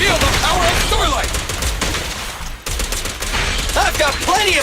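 Rapid video game gunfire bursts in ZZZ, loud and dense, mixed with game voices and effects across most of the stretch with a short lull partway.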